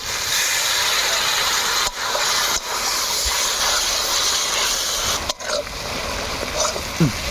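Garlic and spices sizzle in a pan just after a little water is added for a Bengali garlic dish, giving a steady loud hiss and spatter that runs the whole time.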